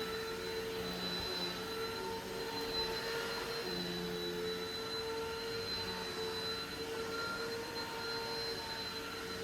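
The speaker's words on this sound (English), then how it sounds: "And here I go vacuuming." A carpet vacuum runs steadily and fairly close, a continuous loud whine with a high tonal hum holding level throughout during very-low-moisture carpet cleaning, with no talking.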